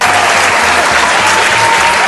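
Dense, loud clapping from an audience at a local pageant interview, steady and close throughout with a low rhythmic thump running beneath it.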